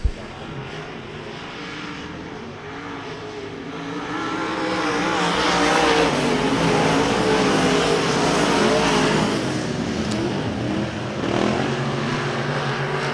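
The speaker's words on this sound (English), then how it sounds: "Max Eddy in that 82 car. Diving down into the turn" Dirt track race cars at a speedway dive into a turn, a loud, continuous broadband engine roar that swells and holds steady across the clip with no talk over it.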